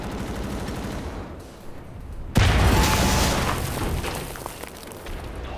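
Hand grenade going off in the shooter game Wolfenstein: The New Order, a sudden loud close blast after a quieter stretch of gunfire-like clatter, followed by a long rumbling roar that slowly fades.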